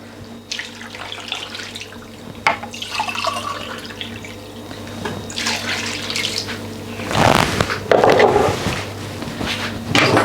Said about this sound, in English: I'm going to add 2 cups of water into this